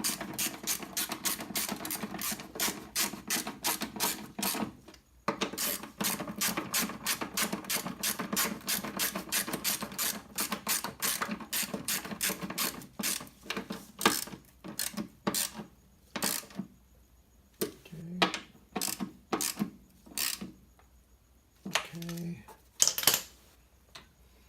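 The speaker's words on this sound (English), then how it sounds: "Then you tighten the bolt in." A wrench ratchets in fast, steady clicks while a bolt is tightened on a Toyota MR2 SW20 stainless brake line, then slows to a few spaced bursts of clicks near the end, close and fairly quiet.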